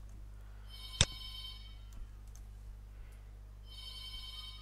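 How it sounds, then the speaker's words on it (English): A landline telephone rings in short trilling bursts, one at the start and another near the end, over a steady low electrical hum in a quiet room. "Oh, someone's calling me on my landline number."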